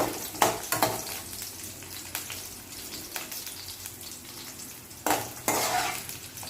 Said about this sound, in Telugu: ఇప్పుడు ఈ ఆయిల్లోనే పచ్చిమిర్చి వేసుకోవాలి పచ్చిమిర్చి వేగేంత వరకు కలుపుతూ ఉండాలి